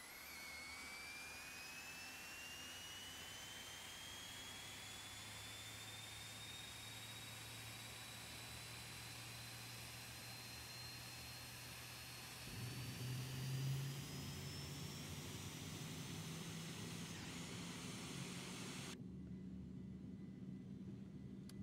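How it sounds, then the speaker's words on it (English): An Aerobask Eclipse 550 NG jet engine starts up in the X-Plane 11 flight simulator with a steady rising turbine whine over a constant roar. The roar deepens partway through, and the high hiss cuts off near the end. "Crank on engine 2."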